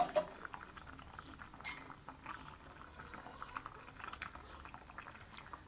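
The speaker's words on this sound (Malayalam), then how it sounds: "ഇനി അതിലേക്ക് അരപ്പൊഴിച്ച് കൊടുക്കാം" A thick prawn curry bubbles and simmers quietly in a pot, with soft glugging pops and a faint pour of ground spice paste near the start.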